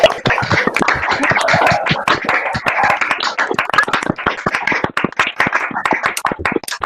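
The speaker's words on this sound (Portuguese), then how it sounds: "Vamos fazer as palmas coletivas," Scattered, uneven hand claps from participants of an online meeting clapping together, sharp individual claps overlapping irregularly rather than a unified crowd roar.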